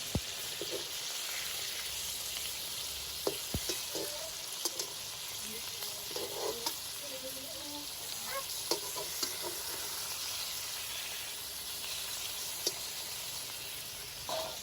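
Steady frying sizzle of a fish mixture in a pan with occasional stirring scrapes and small crackles, fairly close and continuous throughout.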